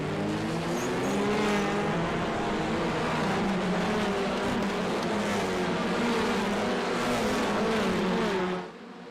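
Race cars pull away at the start of a race at Knockhill Reverse, a thick, continuous roar of many engines revving together, loud and sustained, cutting off abruptly at the end.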